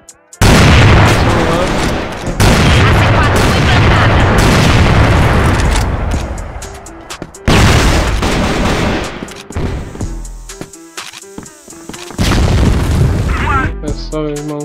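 Sustained automatic gunfire and booming shots from a CrossFire ranked match, loud and dense with brief pauses between bursts, and a later stretch of sparser individual shots.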